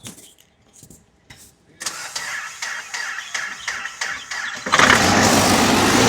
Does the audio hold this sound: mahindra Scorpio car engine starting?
yes